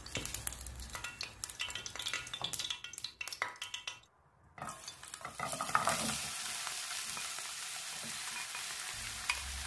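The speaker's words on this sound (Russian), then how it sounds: "На сковороде разогреваю оливковое масло с долькой чеснока. Как только чеснок подрумянится, убираю и добавляю артишоки." Artichokes fry in olive oil in a pan after a garlic clove has browned, giving a steady loud sizzle with stirring and clinks from the pan, briefly dropping quiet before the frying resumes.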